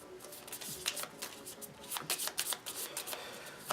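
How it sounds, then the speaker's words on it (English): A deck of hit location cards for the board game Kingdom Death: Monster being shuffled by hand, with rapid riffling bursts and clicks of cards at close range, no talking. "shuffle the hit location deck, so I'm going to do that now"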